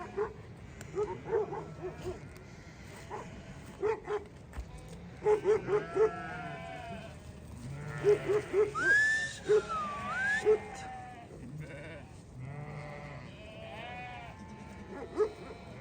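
A flock of sheep bleats repeatedly, several overlapping calls near and far, with occasional dog barks and farm background noise.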